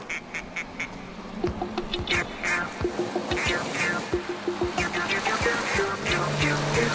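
Duck quacks repeat in a bouncy rhythm along with music, loud and upfront, with a steady beat underneath, from a song.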